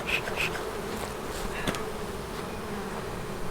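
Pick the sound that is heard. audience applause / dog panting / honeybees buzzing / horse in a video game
honeybees buzzing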